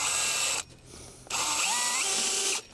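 A power drill drives screws into a wooden fence board in two loud, close bursts of whirring motor noise. The pitch climbs as the second screw seats, and a short quiet gap separates the bursts.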